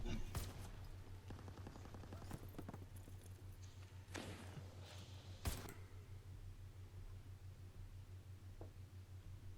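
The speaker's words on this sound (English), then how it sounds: "He's following me right now, shooting at me." Gunfire in a video game: scattered shots and short bursts crack over a steady low hum, with one sharp louder shot partway through and no talking.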